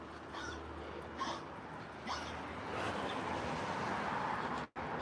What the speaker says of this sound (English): That dog was out of control.